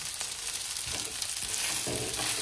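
Spice tempering crackling in hot oil, a dense, bright sizzle with a few sharper pops and stirring scrapes, steady and close, with no talk.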